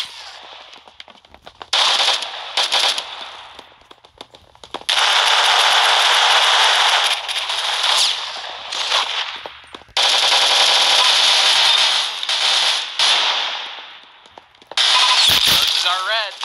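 Rapid automatic gunfire in the Roblox game Arsenal, loud bursts several seconds long separated by short pauses, with a player talking at times.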